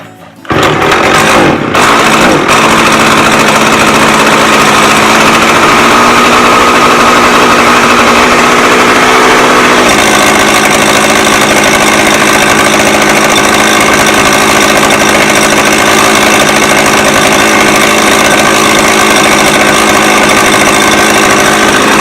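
A McCulloch 610 chainsaw engine runs continuously after its carburetor was cleaned, a loud steady two-stroke drone that shifts pitch partway through, alone with no talk.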